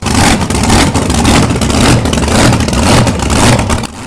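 Loud engine revving heard close up, a continuous rough roar with quick pulsing rises and a clattering edge, holding high throughout before dropping off at the end, with no voices.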